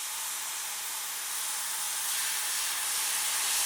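Vegetables sizzling in a pan while being sauteed for a Walt Disney-style chili, a steady close hiss of frying with no talk.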